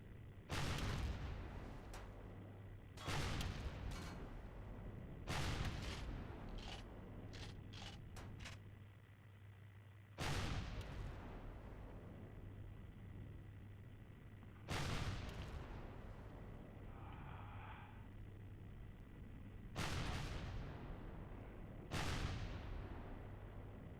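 Heavy gunfire and booming blasts in the Ironman video game, loud separate shots and explosions every few seconds with a quick rattle of rounds early on, over a steady low mechanical hum, no talking.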